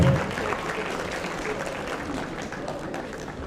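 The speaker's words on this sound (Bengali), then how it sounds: "একটা জোরে করতালি উদিতা সাহার জন্য" An indoor audience at a school board's golden jubilee ceremony at Nazrul Kalakshetra applauds a student award winner, a dense, steady burst of clapping that fills the hall from start to finish.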